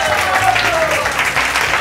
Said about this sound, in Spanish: Un aplauso para Aurora, por favor.